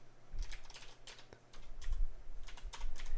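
Rapid bursts of typing on a computer keyboard, close and crisp, in clusters of clacking keystrokes separated by short pauses.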